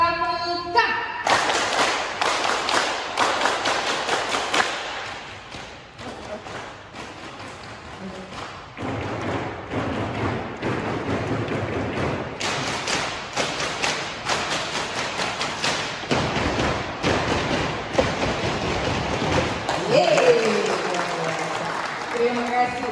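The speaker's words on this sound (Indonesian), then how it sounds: "Tepuk pramuka." Scout clap performed by a group at an education workshop in Aceh: rhythmic bursts of unison clapping in patterned sequences with short pauses, loud and close, with voices chanting between claps.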